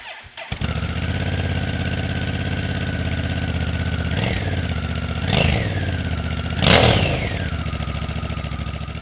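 A Honda NT1100 motorcycle engine idling steadily with a deep rumble through a reworked exhaust, blipped three times into short revs before settling back to idle.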